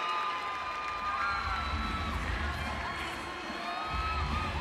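A loud crowd cheers and whoops at a Bassmaster Classic fishing weigh-in, a continuous roar of shouting voices with whistles and high yells layered on top for the whole stretch.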